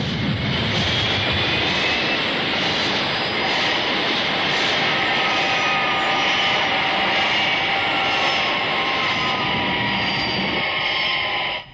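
A Thunderbirds aircraft settles onto a landing platform, its engine a loud, steady roar with a high whine that holds for about twelve seconds before cutting off abruptly.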